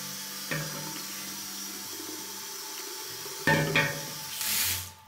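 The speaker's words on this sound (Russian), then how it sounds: "Открывая кран, у нас сразу вода и течет и из лейки." Water runs from a bathroom faucet into a tub, and the single mixer also feeds the shower head; a steady flow of moderate level rises in bursts as the tap is opened, then swells to a brief hiss near the end.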